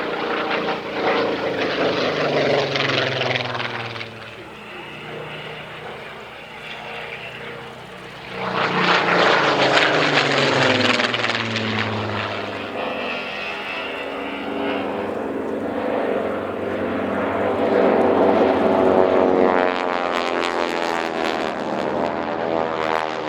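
Spitfire fighter aircraft flying at the Duxford autumn air display, a loud propeller engine drone that swells and fades as it passes, alone without talk.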